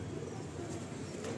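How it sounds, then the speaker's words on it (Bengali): Mundi Sada breeding pigeons give a brief, soft, low cooing murmur nearby, blended into a steady background hum. "খুব পছন্দের পায়রা"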